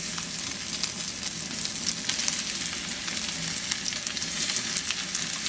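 Salt and pepper pork ribs fry in very hot oil, a dense, even sizzle with continuous crackle holding steady and loud throughout, no voices.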